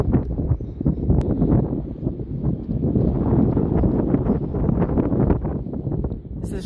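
Strong storm wind outside gusts and roars against a microphone in a continuous low rumble, swelling and easing in bursts, loud and close throughout.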